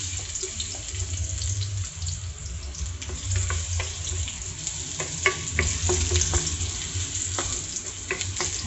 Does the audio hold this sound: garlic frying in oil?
yes